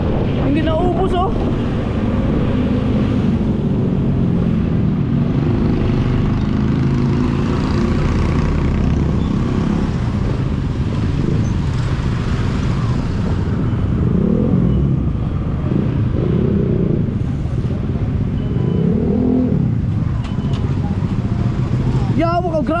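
A motorcycle engine rumbles steadily and loudly throughout while the bike is ridden, mixed with heavy wind buffeting against the microphone. A voice speaks now and then over the drone.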